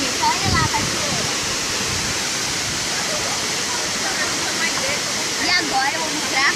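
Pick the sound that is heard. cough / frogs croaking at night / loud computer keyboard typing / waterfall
waterfall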